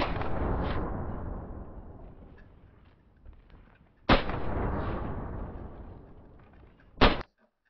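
Three loud gunshots from the video game DayZ, each a sharp crack with a long echoing tail, spaced a few seconds apart, the last one brief and abrupt.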